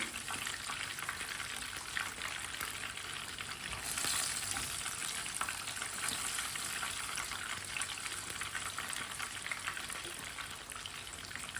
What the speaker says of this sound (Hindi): मछली हमारी दोनों साइडों से फ्राई हो चुकी है।